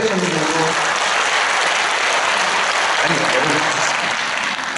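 Audience applause at a church retreat lecture hall, a loud, dense, even roar of many hands clapping throughout.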